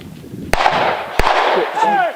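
Two sharp, loud shotgun blasts about half a second apart ring out in a forest toward a cedar tree, each with a short echoing tail, followed by a faint rising whine.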